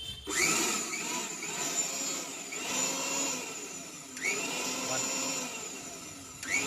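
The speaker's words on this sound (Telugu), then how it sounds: "మిక్సీ ఆన్ చేసి చూపిస్తాను." An unbranded 750 watt three-speed mixer grinder whirring loudly and steadily, its motor whine shifting in a few surges as the speed changes, close and continuous.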